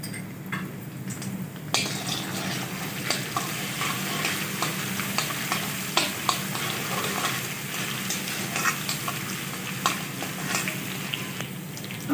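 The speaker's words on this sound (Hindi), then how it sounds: "अब मैं इसमें ऐड करूंगी लहसुन अदरक का पेस्ट 2 चम्मच और इसको अच्छे से फ्राई कर लेंगे।" Two spoons of garlic-ginger paste fry in hot oil for a Peshawari Shinwari beef karahi. A steady, dense sizzle runs throughout, with occasional sharp clicks and scrapes of stirring and no voices.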